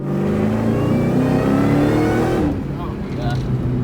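A boosted 2003 Ford Cobra engine pulls hard under acceleration, a loud, rising drone that climbs steadily then drops off near the end as the throttle lifts, with people talking over it inside the car.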